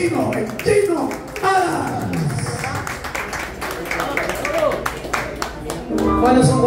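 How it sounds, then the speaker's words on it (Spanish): An audience claps for a bolero singer on a radio show, a scattered burst of hand claps mixed with a presenter talking over it. "Le ponemos un aplauso, porque él es el Chino"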